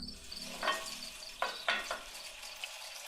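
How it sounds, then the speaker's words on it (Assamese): Vegetable bhaji frying in a pan, a soft continuous sizzle broken by several scraping stirs of a spoon, fairly quiet and close, with no talk. "ভাজি বনাই আছো"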